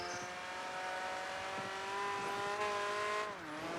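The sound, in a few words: race car engine in Project Gotham Racing 3 video game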